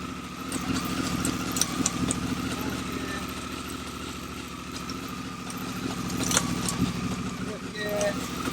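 Honda Africa Twin motorcycle, wrecked and being checked, running in third gear: a steady, moderately quiet engine drone with light mechanical rattles and small clicks, a voice talking faintly under it.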